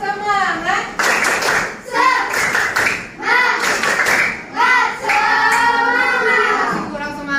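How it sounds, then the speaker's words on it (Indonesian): Schoolchildren in a classroom perform a rhythmic chanted clap, groups of sharp hand claps falling in bursts between loud sung-out children's voices, close and energetic. "Coba tepuk semangat."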